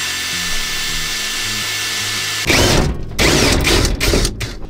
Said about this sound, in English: we can just drill holes and mount it all up